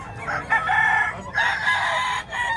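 Two long crows from a straight-combed, white-legged rooster, loud and close, one after the other with a short pause between.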